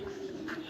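Domestic pigeons kept by a rooftop pigeon fancier give a soft low coo, one brief murmuring call standing out against quiet background noise.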